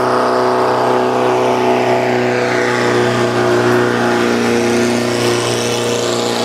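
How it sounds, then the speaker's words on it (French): Loud motorboats said to run on truck engines drone continuously, a heavy low engine rumble with steady tonal hum that holds without letup throughout. "Le bordel que ça fout ces bateaux là, ils ont des moteurs de camion a priori."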